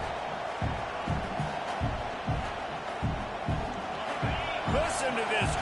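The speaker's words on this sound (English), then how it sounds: "Listen to this crowd just shaking the girders of this place, trying to help their defense" A home crowd roars steadily through a stadium during an Oregon vs Texas A&M college football game in NCAA 26, a dense, continuous wall of noise with rhythmic low thumps beneath and a commentator talking over it.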